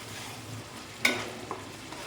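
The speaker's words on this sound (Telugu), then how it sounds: "టమాటో ఆనియన్ గ్రేవీ వేపుకుందాం మంచిగా ఆయిల్లో బాగా వేగాలి" Tomato onion gravy with ginger frying in oil for a fish curry, a soft steady sizzle with one sharp utensil clink and a fainter knock after it.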